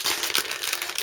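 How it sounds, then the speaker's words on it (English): Plastic crinkles and rustles close up in a short burst of crisp, crackling handling noise. "Excuse the noise of the plastic."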